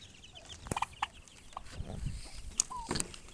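Close, scattered clucks and short chirps from chickens in a quiet yard, a few sharp calls breaking the soft background.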